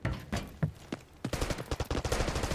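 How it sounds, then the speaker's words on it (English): Bursts of automatic gunfire from an enemy boss in Call of Duty DMZ: a few sparse shots at first, then a rapid, loud stream of rattling rounds fired in quick succession. "The boss is shooting at somebody"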